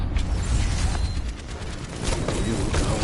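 Bomb explosions from the Overwatch Halloween event with Dr. Junkenstein attacking a castle, a continuous loud rumbling barrage of booms and blasts with dense low-end roar throughout.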